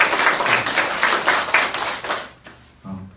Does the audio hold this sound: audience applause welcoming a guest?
yes